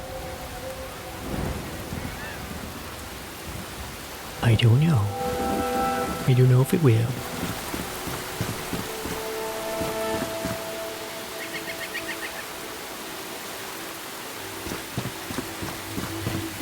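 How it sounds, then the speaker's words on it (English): Steady video-game rain hiss runs throughout, falling onto water, with a couple of louder rumbling bursts, while a voice speaks briefly over it. "Oh, no, it's raining."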